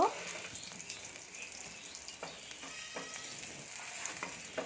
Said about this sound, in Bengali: ফার্স্টই দিয়ে দেবো থেতো করা রসুনটা তারপর দিয়ে দেবো শুকনো লঙ্কা একটু ভালোভাবে লাল লাল করে ভেজে নেব